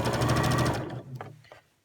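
A sewing machine stitches fabric for scrubs in a short, close burst of rapid needle clatter lasting under a second, then stops, leaving a few faint handling sounds.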